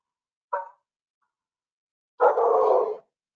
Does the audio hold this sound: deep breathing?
no